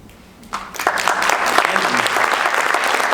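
An audience at a poetry performance bursting into loud, sustained applause that starts suddenly after a brief quiet moment and continues as dense, steady clapping to the end.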